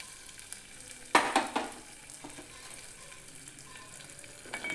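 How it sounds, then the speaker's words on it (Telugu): Almonds and cashews dry-roasting together in a pan, giving a light, crackly sizzle with a few sharper stirring scrapes and rattles near the start, then a quieter steady fry with no voices. "జీడిపప్పు, బాదం పప్పు కలిపి కొద్ది దూరగా వేయించుకోవాలి"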